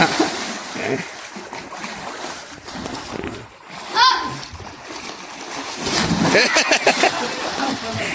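A splash of water around the middle, followed by lively splashing and excited voices of children and adults talking and cheering nearby.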